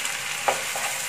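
Tomato paste for a pizza and spaghetti sauce sizzles in a hot pan, a dense, even hiss with a brief stir-scrape partway through.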